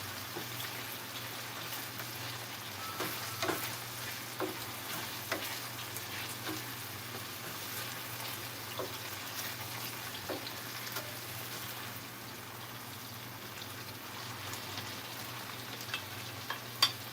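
Boneless saltfish sizzles in a hot pan for callaloo, a steady crackling fry broken by sporadic sharp clicks and scrapes as it is stirred, with no voices.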